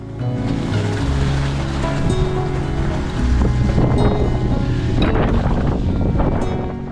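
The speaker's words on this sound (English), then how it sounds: "it's just wind straight in my face" Strong wind roars and buffets steadily into the microphone while cycling through snow across a waterlogged field, a continuous loud rushing with gusts swelling and fading.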